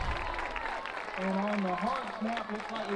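A football crowd rises to its feet, clapping and cheering in a broad wash of applause, while a commentator talks over it.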